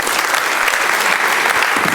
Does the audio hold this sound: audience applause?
yes